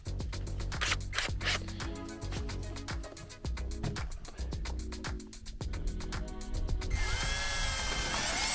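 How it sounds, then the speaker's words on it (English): A power drill whirs in short, fairly quiet bursts as a small bit bores a pilot hole on a Can-Am Maverick X3 Turbo, with clicks and handling noises between runs. "you basically take a small drill bit to get you a pilot hole"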